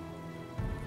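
Steady rain in Fallout 4, a dense hiss of drops on surfaces that swells slightly louder near the end, with no talk over it.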